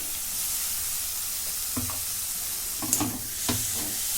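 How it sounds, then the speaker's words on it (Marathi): A tomato tossed into hot oil in a pan while making a bell pepper (capsicum) curry, giving a steady sizzle with a few short stirring scrapes and spatters, close and alone. "आता याच्यामध्ये एक टॅमॅटो टाकून घेते"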